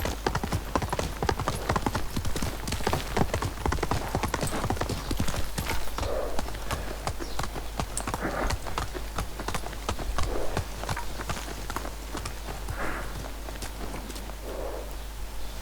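Hooves of Kage, a horse in the video game Ghost of Tsushima, gallop in a fast, steady clip-clop rhythm throughout, close and prominent, with low rumbling underneath and faint voices occasionally rising over the hoofbeats.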